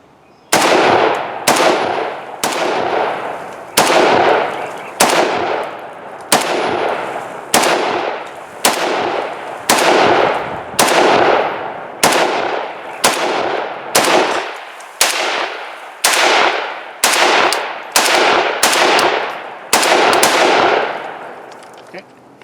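An Arsenal SAM7 SF rifle fires a long series of about twenty loud single shots at a steady pace, each with a ringing decay, speeding up slightly toward the end.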